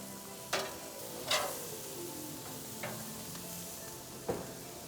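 Burger patties frying on a Weber Genesis grill give a steady close sizzle, broken by a few sharp clanks and scrapes of utensils against the grate.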